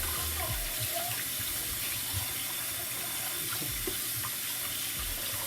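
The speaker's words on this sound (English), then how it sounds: "Remember cold tap water to rinse it." Cold tap water runs steadily into a sink while pork ribs are rinsed, a continuous close splashing rush with light handling bumps underneath.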